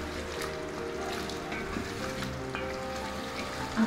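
Chicken coated in beaten yogurt fries in a karahi, giving a steady broadband sizzle with faint stirring clatter throughout, moderately loud and with no voices.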